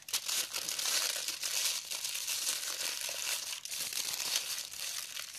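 A sheet of paper is folded and crumpled into a ball by hand, giving a continuous close crinkling and crackling that runs without pause and with no voices.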